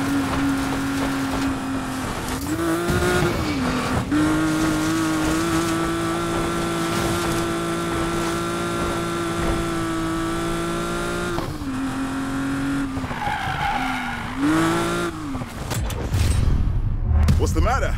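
A Porsche 911 Carrera RSR 2.8 roars through a chase in Need for Speed Payback, its engine droning steadily with a few quick revs and shifts, loud throughout and ending in a rough burst.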